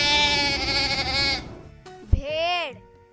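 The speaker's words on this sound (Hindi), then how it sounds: "Sheep." A sheep bleats twice, first a long wavering cry, then after a brief thump a shorter rising-and-falling bleat, loud and close.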